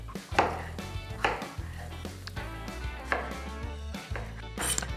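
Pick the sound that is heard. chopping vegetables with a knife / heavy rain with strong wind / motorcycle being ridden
chopping vegetables with a knife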